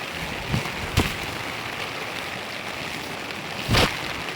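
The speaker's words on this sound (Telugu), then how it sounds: "మొత్తం అయితే వాన్ అయితే ఒక రేంజ్లో పడుతుంది" Heavy rain beats on a camping tent as a constant close hiss, broken by a few sharp thuds of heavier drops or gusts against the fabric.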